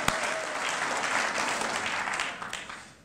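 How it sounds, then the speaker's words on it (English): Lecture audience breaking into applause, a broad wash of many hands clapping fairly loud and continuous before fading out at the end, with no speech. "let's have some applause for Rhianne"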